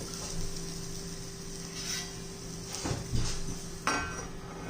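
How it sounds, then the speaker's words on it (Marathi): A lid lifts off a cooking pan of steamed gram-flour (besan) batter for a crispy snack, with a few clattering metallic knocks over a steady low kitchen hum. "तर हे पहा मी झाकण काढून घेतलेलं आहे."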